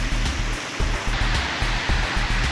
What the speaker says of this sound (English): Notice all those jets of water spraying more water into the pool.